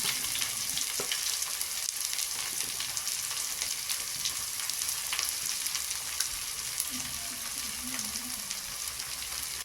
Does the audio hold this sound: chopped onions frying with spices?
yes